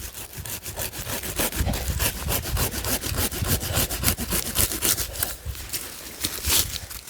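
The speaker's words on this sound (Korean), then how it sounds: "이것도 이제 두 가지를 끊어내겠습니다" A hand saw cuts through bonsai tree branches with quick, rhythmic rasping strokes, loud and close, running continuously without talk.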